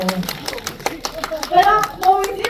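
Live audience applause for the actors at a curtain-call event for the Hong Kong stage play with Aaron Kwok, scattered hand claps building into steadier clapping over a couple of seconds, with voices and chatter mixed in underneath.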